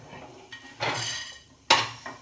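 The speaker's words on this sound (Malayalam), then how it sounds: "നമുക്ക് എണ്ണ പോകുന്ന സൈസ് ഇങ്ങനത്തെ ഒരു തവി എടുത്തിട്ട് നമുക്ക് ആ ഇഞ്ചി ഇങ്ങോട്ട് കോരിയെടുക്കാം" A metal ladle scrapes and clinks against a pan while fried ginger is scooped out of hot oil, with two sharp utensil knocks over a faint background.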